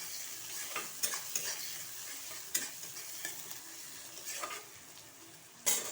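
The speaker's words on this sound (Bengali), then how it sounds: "দেখো মশলাটা কষা হচ্ছে" Onion, ginger-garlic paste, green chilli, turmeric and salt fry in oil while being stirred, giving a soft steady sizzle broken by repeated light scraping clicks of the spoon.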